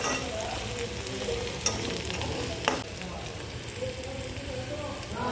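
Garlic fries in a pan for a panchamrut dish, giving a steady, quiet crackling sizzle with a couple of sharper pops and faint stirring, close by and without speech.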